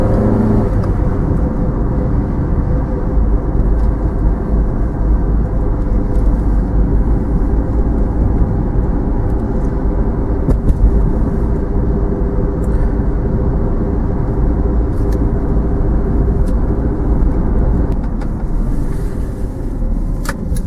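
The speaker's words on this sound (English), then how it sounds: "you start to hear the road noise, the wind noise, quite a fair bit in this car" Cabin of a 2000 Honda CR-V cruising at speed: a loud, steady rumble of road roar mixed with wind rush, continuous and unchanging throughout, with no voices.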